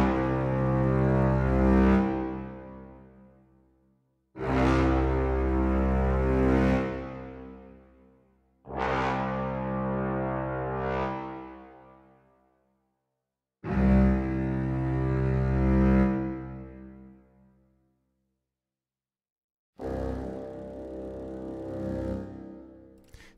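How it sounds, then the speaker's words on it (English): A low orchestral brass note, tubas with cellos and basses from the Rhapsody Orchestral Colors library, swells and fades five times in a row, each one rising and dying away, with silence between, clean and solo. "I just had a very low note that swelled up"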